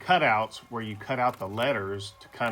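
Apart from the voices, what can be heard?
No everyday noise stands out behind the speech.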